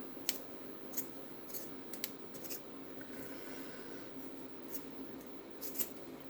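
Scissors-like snips cut through a water-cooling return pipe on a multi-GPU CMP 170HX rig, a few crisp, close cuts scattered over a steady low background hum.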